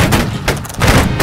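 A musket volley fired on command in a line-battle video game: several close, loud cracking shots in quick succession, bursting out at irregular intervals rather than in one single blast.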